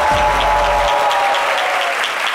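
Loud, steady studio audience applause on a French midday TV show, continuous clapping throughout with a brief low thump at the start.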